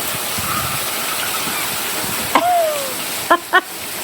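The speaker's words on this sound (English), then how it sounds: "It's raining hard when it's coming up here on the porch." Heavy rain pours onto a porch as a steady, dense hiss that fills the whole clip, with a few short, sharp chirps cutting in near the end.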